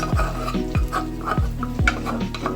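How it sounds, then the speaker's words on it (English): Saltfish goes into a hot frying pan for a Jamaican dish, a steady close sizzle broken by repeated scraping stirs of the utensil against the pan, roughly every half second, with no voices. "going to put the saltfish in"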